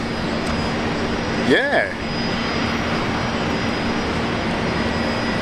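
Jetstar jet airliner arriving from Bangkok at Brisbane Airport, a steady distant engine roar with a brief voice heard over it.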